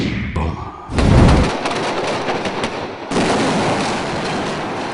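A staged explosion for a Don 2 action scene sets off a loud, sharp blast followed by a sustained roaring rumble, then a second burst of debris and noise that carries on to the end, close and powerful with no talk.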